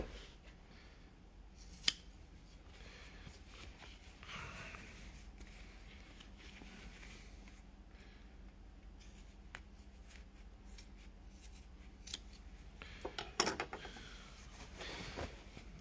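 Scissors snip through fabric in a quiet sewing workshop, faint scattered cuts and light handling sounds over a low background hum, with a couple of sharper snips near the start and end.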